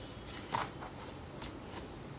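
Tarot cards being drawn and shuffled during a reading, a few soft papery swishes and flicks, close and quiet, with no talking.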